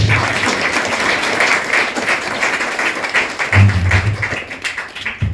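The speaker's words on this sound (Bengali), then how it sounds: "আমরা হাততালি দেব।" Wedding guests clap together after the ring ceremony at a wedding in Alipurduar, a dense, lively burst of applause from a nearby crowd that swells, dips and picks up again.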